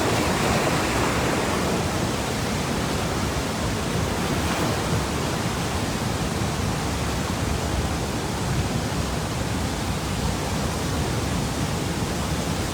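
A waterfall roars with a dense, steady rush of falling water that stays loud and unbroken throughout, with no voices.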